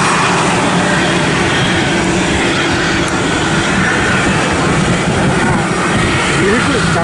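A fixed-wing airliner lands at Chubu Centrair Airport, its engine roar loud and steady throughout, heard from an observation sky deck with a broad rushing drone.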